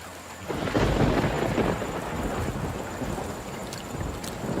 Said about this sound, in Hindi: उधर तूफान भी बढ़ता जा रहा है।